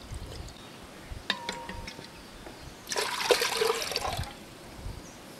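Water pouring from a bowl into a large cooking pot for making poha papad at home, a steady splashing pour of about a second and a half after a few faint clinks, close and moderately loud.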